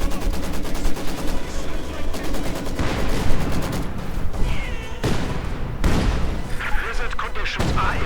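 Field gun and machine gun fire in the World War II strategy game Company of Heroes 2, a dense continuous barrage of booms and rapid bursts during a 2v2 match, loud and layered with battle noise.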